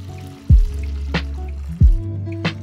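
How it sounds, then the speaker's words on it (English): Homemade liquid laundry soap is poured into a container, two thick gloopy plops and glugging falls of liquid with a few small drips between them, close and clear. "wait until the soap is cool and then pour it into your container."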